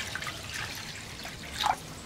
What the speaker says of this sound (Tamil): மண் பாத்திரத்தை ஃபுல்லாக தண்ணி ஊற்றிடுங்க.